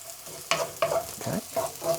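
Aromatics frying in hot oil for tofu in black bean sauce, with bursts of sizzling and scraping stir strokes spaced about every half second over a low background hiss.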